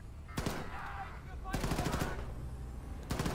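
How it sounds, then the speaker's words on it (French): Sniper rifle shots in the video game Wolfenstein II: The New Colossus, three sharp loud blasts spaced about a second apart, each with a ringing tail over a steady low game ambience. "On va le snipe."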